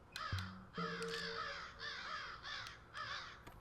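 Several crows caw in harsh, repeated bursts in the video game Sense, a cyberpunk ghost story, loud and close, with a short low thud early on and a steady background hum.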